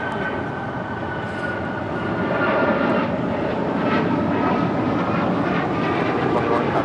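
Aircraft engine noise from a plane taking off at LAX holds steady and loud throughout, with a rising roar in the second half and faint radio talk in the background.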